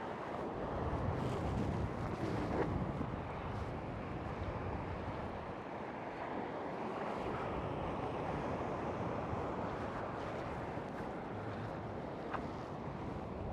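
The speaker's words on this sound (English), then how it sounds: "The wind is a little bit, it's not going straight that way, it's going that way a little bit" A strong south wind buffets the microphone on an open beach, mixed with a steady wash of surf breaking nearby; the roar is continuous and fairly loud, with no voices.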